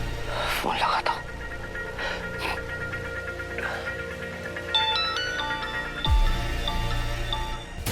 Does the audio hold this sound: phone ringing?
yes